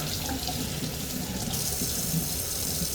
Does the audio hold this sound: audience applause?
no